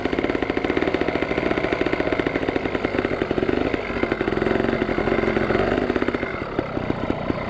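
A trials motorcycle engine runs steadily close by, a continuous throbbing mid-pitched drone with rapid firing pulses that holds level throughout, with no voices over it.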